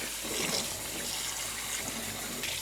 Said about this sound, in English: we gotta rinse it, get all the buttermilk out of it, or else it'll go bad quick